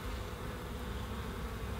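A steady, faint hum of honey bees buzzing around an open hive, continuous and without voices.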